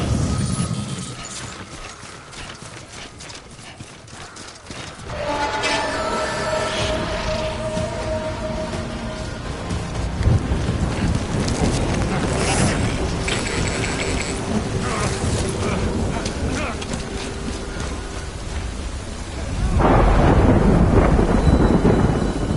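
A thunderstorm rumbles in the video game Death Stranding, with heavy rain and booming thunder rolling in waves, loudest near the start and again toward the end, with no talk.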